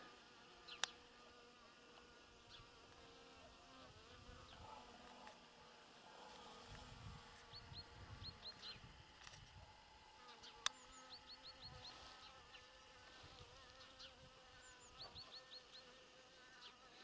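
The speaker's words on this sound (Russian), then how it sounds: "Пчелы." Bees buzz around close by, quiet and intermittent, with a soft steady drone and occasional louder passes.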